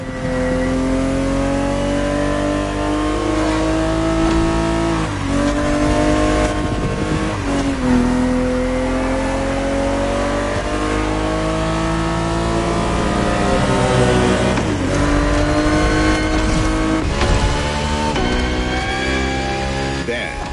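A Ferrari 365 GTB4, a 1970s classic sports car, races in The Crew Motorfest video game. Its engine holds a loud, steady harmonic drone for the whole run, rising and falling as it revs through gear changes and corners.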